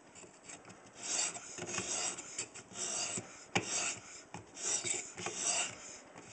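A knife blade rasps back and forth across a wetted whetstone on an Edge Pro Apex sharpening system, producing steady, close scraping strokes in an uneven rhythm with no voices.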